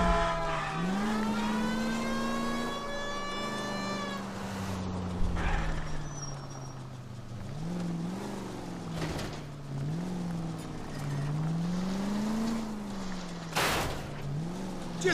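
Engine of a car driven in the video game L.A. Noire, steady and moderately loud, with repeated revs rising and falling as it accelerates and shifts, and occasional thuds and clatter.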